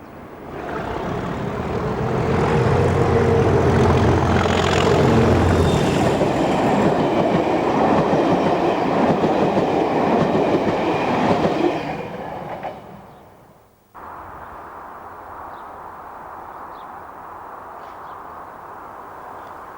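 A British Rail down train passes near Helsby in 1997, building to a loud sustained roar of engine and rolling stock with rumbling wheels, then fading before an abrupt cut to quieter ambience with faint distant chirps.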